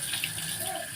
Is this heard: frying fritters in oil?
no